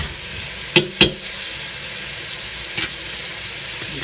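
Onions softening in a hot pan give a steady, close frying sizzle, with two sharp spatula clicks near the start and a softer knock later.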